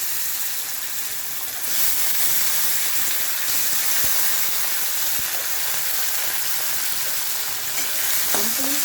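Cumin, fennel, dried red chillies and green chillies tempering in hot oil, a loud, continuous close sizzle and hiss that swells early on, with occasional soft clicks from stirring.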